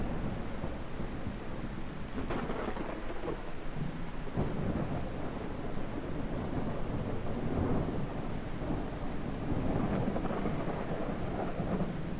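Rain keeps up a constant hiss in a video game storm while several low thunder rumbles roll through, some with sharper cracks, steady and enveloping with no voices.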